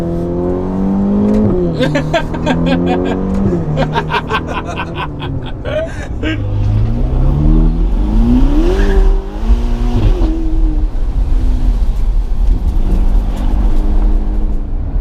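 A Ferrari GTC4 engine revs hard and climbs through several rapid upshifts, each pitch rise broken by a sharp shift, loud and close from inside the car with a steady cruising drone at the end.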